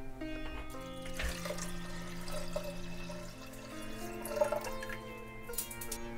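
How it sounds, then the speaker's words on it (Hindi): Water pours into a pressure cooker holding soaked lentils, a soft continuous trickle and splash at close range, with a faint tonal hum in the background. "इसके लिए डालेंगे इसमें 4 कप पानी।"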